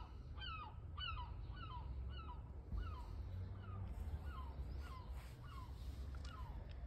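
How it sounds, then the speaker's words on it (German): Repeated gull-like calls, a string of short descending squawks about every half second, ring out over a steady low outdoor rumble, with more distant calls later and faint background noise. "Das ist ein Möwe."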